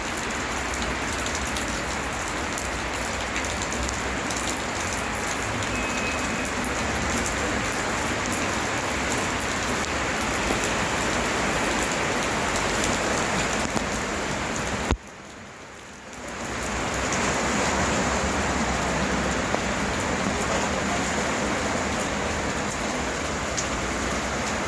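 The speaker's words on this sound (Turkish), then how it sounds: "Batman'a yarım saat yağmur yetti işte." Heavy rain pours down on a street in Batman, Turkey, a dense, steady hiss that continues for the whole stretch with a short dip in the middle and no talking.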